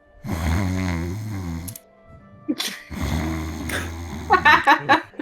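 A voice imitates snoring: two long, rumbling snores separated by a short pause, then a few squeaky, whistling breaths at the end.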